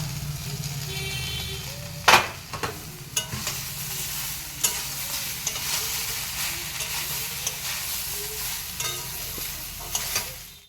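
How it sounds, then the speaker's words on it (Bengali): Mixed vegetables including bitter gourd fry with lentil dumplings (bori) in a pan on a home stove, giving a steady low sizzle broken by repeated sharp scrapes and clatters of stirring, with no talking. "বড়ি ভাজা হিসাবে সব রকম সব আনাজ দিয়ে দিলাম একসঙ্গে উচ্ছা"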